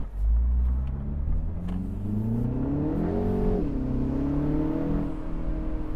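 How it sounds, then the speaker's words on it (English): A 2025 Mini Cooper S convertible engine revs up and eases off, a close, steady mid-pitched rumble whose tone climbs and then settles back, with no speech over it. "You can even hear the blow-off valve."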